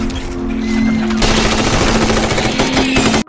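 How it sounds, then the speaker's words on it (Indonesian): Rapid bursts of automatic gunfire in a film scene where a character shoots at attacking zombies inside a tent, a dense, loud rattle of shots running almost continuously before cutting off abruptly. "Wonbin menembak bola yang menyerang di dalam tenda"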